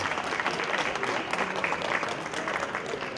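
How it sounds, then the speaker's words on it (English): Steady applause from an audience at a startup day event for the FinTech batch, continuous dense clapping that holds evenly throughout with faint crowd murmur mixed in. "With some applause in the background so the guys feel more motivated to move faster"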